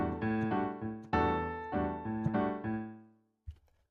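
A piano plays a hemiola passage in 3/8, with short staccato chord groups accenting every two eighth notes. The notes ring clearly and close, then a brief pause and a faint knock close it out.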